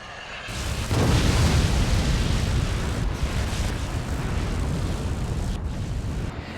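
Rockets explode in the physics-based strategy game Forts, making a loud, sustained rumbling blast that fills the scene and fades gradually over several seconds, with no talking.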